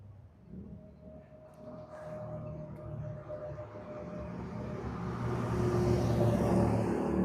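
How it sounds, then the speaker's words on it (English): Motorcycle passing along a Los Angeles street, a low engine rumble approaching from a distance and swelling louder toward the end, heard alone with no talking. "That's a motorcycle."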